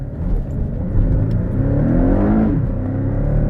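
A mid-engined, rear-wheel-drive Porsche Cayman accelerates hard nearby, its pitch climbing steadily through the gears with a smooth, rising growl.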